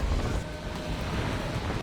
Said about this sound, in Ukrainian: Вітер, звісно, сильний.